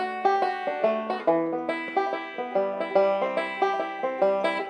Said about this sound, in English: We're going to play this chord progression.